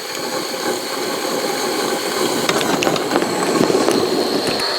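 Railroad locomotive at a steel works, its blower and engine building to a loud, steady roar as it starts to move, with faint clanks and rattles rising over the continuous drone.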